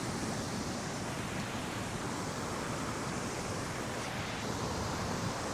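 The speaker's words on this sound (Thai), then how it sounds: "น้ำตกผาพึ่งนะครับ ไม่ได้เป็นน้ำตกใหญ่อะไรมากนะ" Pha Phueng waterfall, a small waterfall suited to swimming, pours steadily as a dense, even roar of rushing water close by, with no pauses or voices.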